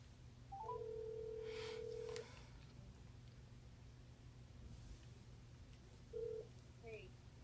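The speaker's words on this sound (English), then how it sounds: "I'm going to phone a friend" Phone call placed: a long steady touch-tone beep held for over a second, then faint rustling and a quiet ring tone near the end, soft and close in a quiet room.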